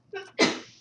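A single sharp sneeze, close and loud, preceded by a brief inhaled gasp and trailing off quickly.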